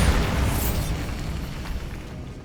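The Bombarda spell in Hogwarts Legacy goes off in a catacomb, a heavy booming blast that hits at once and then rumbles and fades over a couple of seconds.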